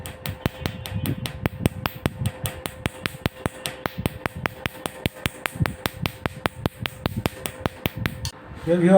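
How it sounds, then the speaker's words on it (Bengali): Rapid sharp clicking pulses from a CO2 fractional laser machine working over a tattoo on skin, evenly spaced ticks repeating steadily for several seconds over a low background hum, close and fairly loud. "CO two factional laser machine দ্বারা রিমুভ করা হয়"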